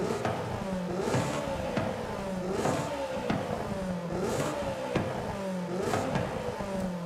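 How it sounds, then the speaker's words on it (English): Car fitted with a race intake in Forza Horizon 5, revving in repeated cycles, each rising whine and intake roar peaking about every 1.3 seconds, loud and close with no talking. "Because the race intake gets a little too loud and I can't even hear the exhaust."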